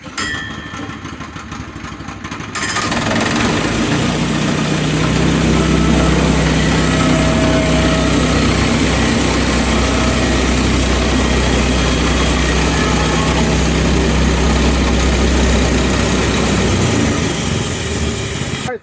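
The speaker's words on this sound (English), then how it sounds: "Saw seems to be working well." A sawmill engine at a blacksmith shop roars loud and steady while cutting lumber, kicking in abruptly after a quieter start and holding a dense, constant drone.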